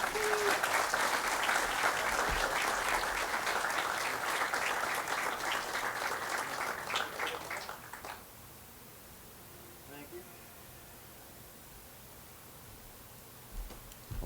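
An audience at a Gettysburg talk applauds to welcome Ranger Matt Atkinson, a dense, steady roar of clapping for about eight seconds that then dies away into quiet room tone.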